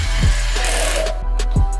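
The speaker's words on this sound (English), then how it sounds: "You fellas doing some drill work, working on your hand-eye coordination, working with power tools" A toy drill from a STEM take-apart dinosaur set whirs steadily at close range, with small rhythmic clicks or knocks repeating about every second and a half.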